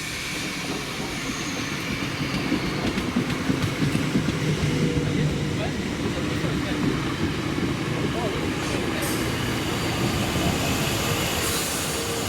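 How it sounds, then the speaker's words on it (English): A ScotRail passenger train formed of units 32322 and 318250 passes close by on the line between Glasgow Central and Lanark, a loud sustained roar of wheels and rumble with clattering and squeals that lasts throughout. "this is 2B92, the 1711 ScotRail service to Lanark from Glasgow Central with 32322 and 318250"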